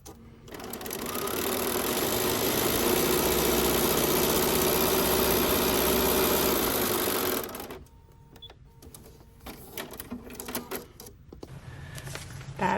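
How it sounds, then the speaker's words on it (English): A sewing machine stitches fabric pieces for a foundation paper-pieced quilt block, a loud steady rapid whirr for about seven seconds before stopping, followed by quieter handling noises. "take it to my machine and sew"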